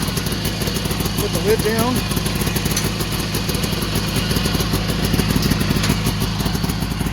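A two-stroke 360 car with dual exhaust warming up, a steady near idle with a rough, pulsing beat running throughout, while a person speaks briefly over it.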